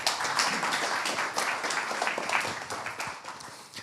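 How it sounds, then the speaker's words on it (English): Audience applause after a cybersecurity meetup talk, a brisk burst of many hands clapping in a room, moderately loud and steady, fading slightly at the end, with no talking. "An applause."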